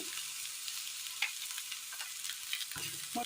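Mustard seeds sizzle in hot oil in a pan, a continuous hiss with a few small pops and crackles, close by and steady with no voices.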